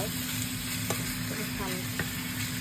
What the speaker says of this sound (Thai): เนื้อหมูนะคะ ผัดกับผักโขมนะคะ